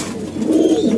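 A pigeon coos nearby in a loft where birds are kept, one soft, low, rolling call that swells and fades within a second.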